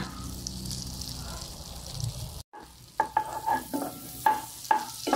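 Butter melts and sizzles softly in a pan, a faint frying hiss that gives way after a brief break to a series of clinks and stirring knocks against the pan, with no speech.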